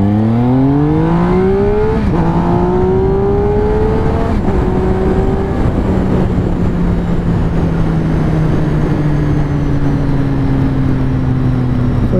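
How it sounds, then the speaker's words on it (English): A steady motorcycle engine drone from a Triumph Speed Triple with stock dual high-mount exhaust, with harmonic tones that rise during brief revs, then settle into constant cruising for about twelve seconds, loud and close. "I want to give a good example of what my exhaust sounds like today with the stock exhaust"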